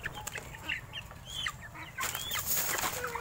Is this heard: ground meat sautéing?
no